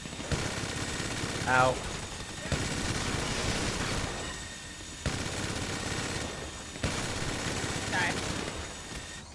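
Gunfire aimed at the player in GTA 5 during a Doomsday Heist mission: sustained automatic bursts that repeat in waves, with someone talking and yelping over the shooting.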